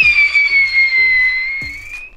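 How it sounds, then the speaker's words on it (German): A whistling pyrotechnic shot screams upward in a loud, steady whistle that slowly falls in pitch, with sharp pops from launches and bursts. "Und auf die Pyro-Pfeifer. Die gehen ziemlich weit, das weiß ich."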